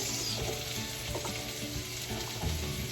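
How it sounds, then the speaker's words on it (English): The rest of the vegetables, including small garden carrots and bell pepper, go into a pan of sweated vegetables for chicken cacciatore, frying with a loud, continuous sizzle and stirring scrapes, ending in a sharp clatter. "We are adding the rest of the vegetables."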